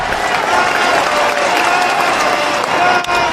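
A baseball stadium crowd of more than 17,000 rises cheering and applauding in Detroit in 2010, a dense, loud, steady roar that holds through the whole stretch with a brief dip near the end.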